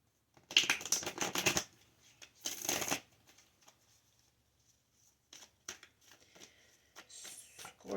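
Tarot cards shuffled close up in two loud bursts of riffling, then scattered lighter flicks and taps of cards being handled, with no talking.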